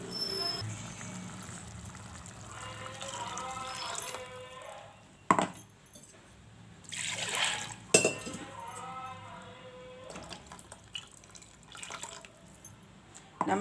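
Water is poured into a pan of mutton gravy with a ground masala paste, giving close, splashy pouring and dripping that comes in a few bursts with clinks of utensils and some background hum.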